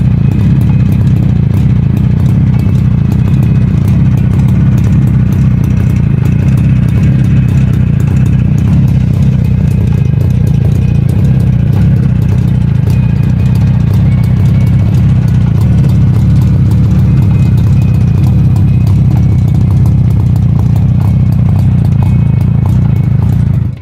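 A Czechoslovak Jawa 350 motorcycle engine runs steadily and loudly for a long stretch, a constant low throb with mechanical clatter and no voices.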